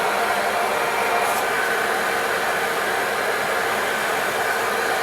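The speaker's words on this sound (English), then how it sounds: "if you use a heat gun, you want to keep it moving" A heat gun softening Kydex blows a constant, loud, even airy roar from start to finish, with nothing else heard and nobody talking.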